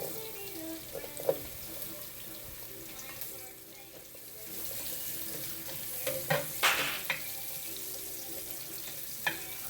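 Garlic and onions sizzling in a pan, a steady crackling fry with scattered sharp clinks and scrapes from stirring utensils, close and moderately loud, no talk.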